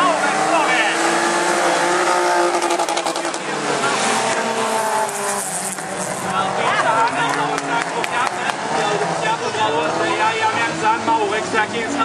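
Folkrace cars roar around a track in a race at Tomelilla, engines loud and continuous with tire squeal and skidding, while a commentator talks over the action throughout.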